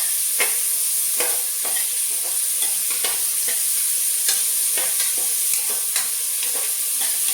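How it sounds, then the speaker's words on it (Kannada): Onions frying in ghee over a low flame, with a constant bright sizzle and regular scraping stirring strokes about every half second, close and loud, with no talking. "ಲೋ ಫ್ಲೇಮಲ್ಲೇ ಇಟ್ಕೊಂಡು ಇದನ್ನ ಚೆನ್ನಾಗಿ ಫ್ರೈ ಮಾಡ್ಕೊಳ್ಳೋಣ. ತುಪ್ಪದಲ್ಲಿ ಅದು ಫ್ರೈ ಆಗಬೇಕು ಚೆನ್ನಾಗಿ."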